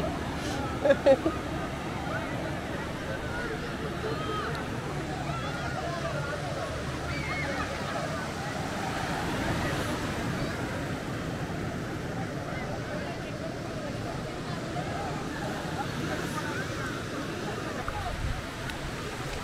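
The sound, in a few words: sea waves crashing on the beach at Cox's Bazar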